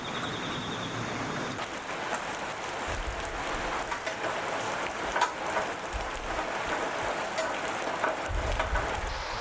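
Steady rain falls outdoors at a rural old farmhouse in Japan, a loud, dense, continuous hiss of drops on surfaces, with no voices.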